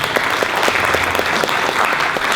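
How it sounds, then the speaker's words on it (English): Sustained audience applause fills a room at a green growth working group launch event, dense steady clapping from many hands with no break across the whole stretch. "let's give another round of applause for all of you."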